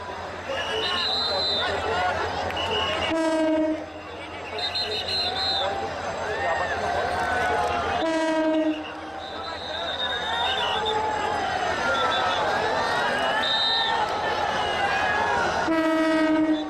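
A train rolls slowly past people walking alongside, its long horn blasts repeating several times over a continuous rumble of rail noise. The horn sounds are loud and near.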